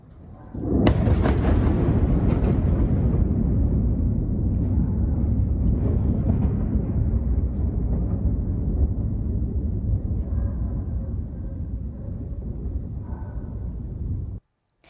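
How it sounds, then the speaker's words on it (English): Missile strike explosion in Kyiv: a sudden loud blast followed by a long, heavy low rumble that rolls on steadily for over ten seconds before cutting off. "they did record the sound of the explosion"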